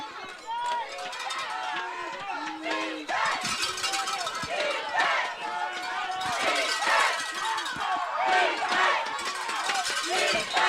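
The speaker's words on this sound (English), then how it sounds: "The Argos crowd trying to get their boys going." Spectators at a PeeWee youth football provincial championship game yell and cheer in a loud, continuous roar that rises and falls, with play-by-play commentary running over the crowd.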